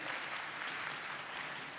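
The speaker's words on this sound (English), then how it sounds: "Give Dr. Amslog an applause." Faint, steady audience applause for Dr. Amslog after a talk on stem cell technology, a soft even patter of many hands in a short burst.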